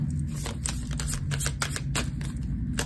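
A deck of tarot cards is shuffled by hand, giving a fast, dense run of crisp clicks and riffles up close, steady throughout over a low background hum.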